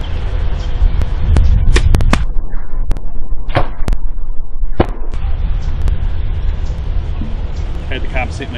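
Arrows tipped with Muzzy MX3 75-grain broadheads are shot outdoors in wind, sharp snapping releases and impacts cracking out several times over a steady windy rumble, with people talking in between.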